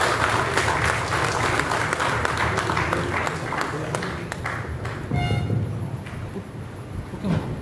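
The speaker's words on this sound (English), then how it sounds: "let's give him a big round of applause" Applause for the composer of a coffee table ebook at a prize distribution function for a cooking competition, a loud, sustained round of clapping from an indoor audience that fades out, with a faint horn toot.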